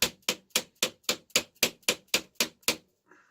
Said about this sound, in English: Here's my homemade impact driver, which is this, and then this, and then a little twisting.